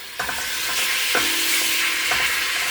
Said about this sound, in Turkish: un kavuracağım